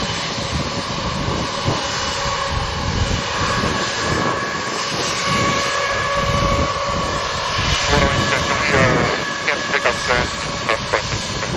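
Jet airliner's engines roar on its takeoff roll down runway 07 at Sangster airport, Montego Bay, Jamaica, a loud continuous rumble with a breezy edge across the whole stretch.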